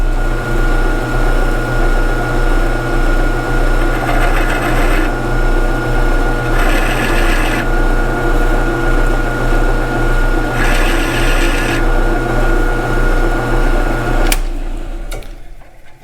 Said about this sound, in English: So I'm going to clean up the top of the other hole over here with the countersink.